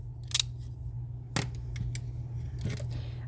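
Decorative craft scissors snipping paper in a few separate quick cuts, close by, over a steady low background hum.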